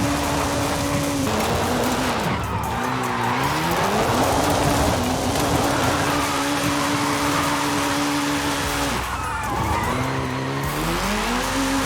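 A drifting Honda Civic pushes uphill with loud, sustained tire squeals sliding up and down in pitch over a steady engine drone, breaking briefly around gear changes before the screech resumes.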